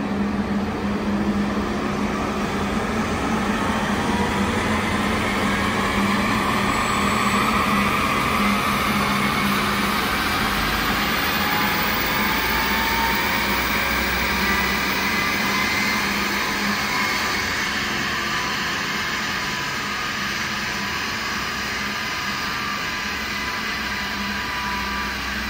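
A Peugeot 3008 accelerates hard: a loud, continuous engine drone that rises and holds for a long stretch, broadband and steady with little variation, heard alone without voices.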